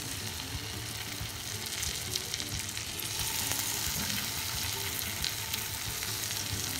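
Chicken pieces fry in butter in a pan, a steady close sizzle with crackling and faint stirring running throughout, growing slightly louder partway through.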